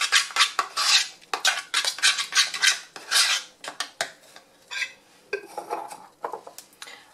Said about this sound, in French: Je vais bien mélanger ça.